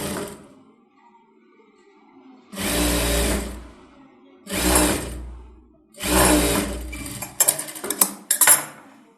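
A tailor's sewing machine stitches blouse fabric in four separate bursts of fast, loud whirring and clattering, with short quiet gaps between runs.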